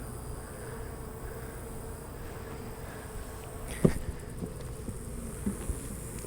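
Honey bees buzz around an open hive during a nuc inspection, a steady close swarm drone with a few faint knocks from handled frames.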